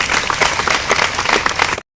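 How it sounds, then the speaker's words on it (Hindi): An audience at a stage performance bursts into loud, dense applause and clapping that continues steadily, then cuts off abruptly. "तुमन मोर नाड़ा हरो नाड़ा पर जोरदार ताली बजाओ।"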